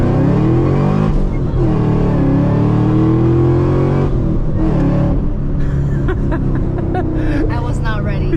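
Loud, close engine of a Chevrolet Camaro ZL1 revving and pulling hard under acceleration, a steady roar rising in pitch through the run, with people talking and laughing over it inside the car.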